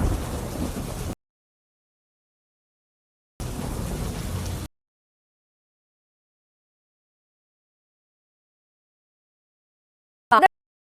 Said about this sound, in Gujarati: કાળા ડિબાંગ વાદળો વચ્ચે પવન સાથે વરસાદ છે